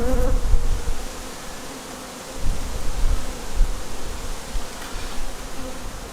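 Honeybee swarm buzzing steadily inside a poly nuc hive opened for inspection, a dense, continuous drone that swells and dips in loudness across the few seconds, with no voices.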